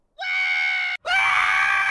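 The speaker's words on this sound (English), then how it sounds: "when Rayman screams, he does sound exactly like Scrat from Ice Age" Rayman screams in the Rayman Origins video game, a shrill, squeaky, cartoonish cry held loud and steady, broken by a brief gap before a second long, piercing scream.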